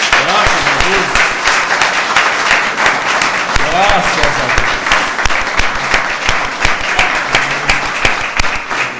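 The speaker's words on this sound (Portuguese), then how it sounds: "Vamos aplaudir ao Senhor?" A church congregation claps loudly and steadily in a continuous burst of applause that lasts throughout, with voices calling out over the clapping.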